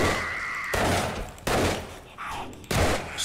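Gunfire in the zombie survival game 7 Days To Die during a horde night, loud bursts of shots at irregular intervals, several sharp onsets close together.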